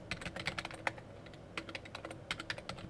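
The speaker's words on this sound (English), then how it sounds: "type in the username and then the password" Quick, light keystrokes clatter on a computer keyboard as a username and password are typed, an irregular burst of close clicks with a short pause midway and a faint background hum.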